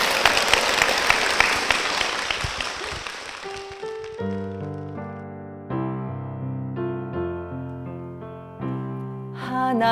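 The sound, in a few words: applause in church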